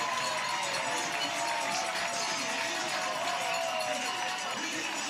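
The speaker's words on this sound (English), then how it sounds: "And the hometown crowd loves it." A hometown crowd cheers at a professional softball game as the Bandits score, a steady, moderately loud roar of many voices, with a commentator talking over it.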